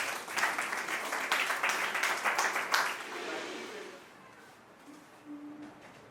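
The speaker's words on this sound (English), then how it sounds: "Please let's give him a round of applause." Conference audience at a quantum probability school at the University of Ibadan gives a steady round of clapping for about four seconds, then it fades into quiet room noise with a faint tone.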